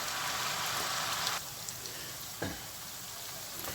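Eggplant slices frying in a pan give a dense, steady hissing sizzle that drops in intensity partway through, with a couple of soft knocks from the pan and no speech.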